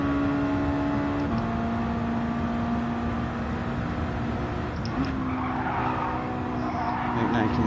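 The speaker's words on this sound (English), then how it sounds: "All sorts of skidding going on in the background." Tires skid and squeal in the racing game Gran Turismo 7, steady engine drone with sustained tonal screech lines throughout, shifting pitch around the midpoint, with a voice talking faintly underneath.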